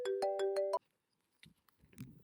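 An incoming-call ringtone on a phone chimes as a rapid run of bright repeated tones for under a second, then stops abruptly, followed by quiet rustling and a faint voice.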